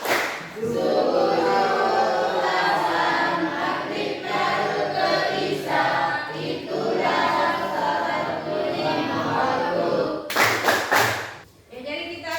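A classroom of students performs a rhythmic tepuk clapping chant together, loud and close, with group voices chanting over patterned claps and a final burst of quick claps near the end.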